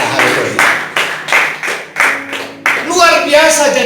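Church congregation clapping hands in rhythmic, evenly spaced bursts at a Sunday service, loud and close, ending as a voice begins speaking over the last moments.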